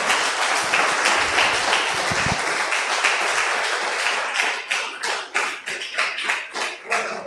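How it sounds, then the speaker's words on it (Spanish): Congregation applause during a church seminar, dense clapping that thins into separate, uneven bursts of individual claps toward the end. "entonces denle un aplauso al Señor"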